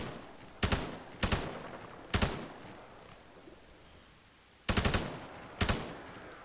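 Five separate bursts of gunfire from shooting in the video game Arma 3. Each is a sharp, loud crack that trails off, spaced irregularly, with a double burst near the end and a faint rain-like hiss between them.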